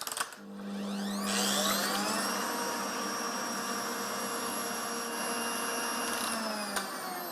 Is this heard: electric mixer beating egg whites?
yes